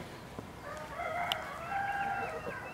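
Chickens on a small farm give soft, distant clucks and drawn-out calls over a steady background hiss, faint and scattered across a few seconds.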